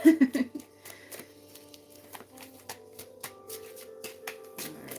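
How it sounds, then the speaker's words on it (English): Crisp riffling and flicking of two decks of tarot cards shuffled together in a few quick bursts, then quieter handling and scattered taps, close by with faint background hum. "having these 2 decks together and having small hands, it's kind of hard to shuffle"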